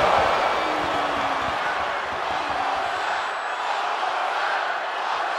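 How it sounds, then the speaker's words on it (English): Arena crowd noise in the Def Jam wrestling video game, a steady, dense roar with no clear peaks, running evenly and loudly throughout. "The sound of this crowd is dead."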